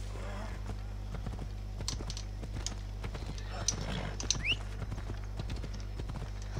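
A horse in Assassin's Creed Odyssey clip-clops along with steady hoofbeats over a constant low hum, moderately loud and near, with a brief whinny-like cry and faint game sounds scattered through.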